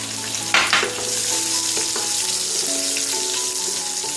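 Mustard seeds with dried and green chillies sizzle loudly in hot oil, a dense continuous crackle with a few sharp pops near the start and faint stirring.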